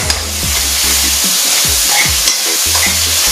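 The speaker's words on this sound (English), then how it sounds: "enough to help to saute our vegetables and to give our gravy that nice glaze" Vegetables sautéing in a pan with soy and oyster sauce: a close, steady sizzle runs throughout, with rhythmic scrapes and knocks of a spatula tossing the food; no talking.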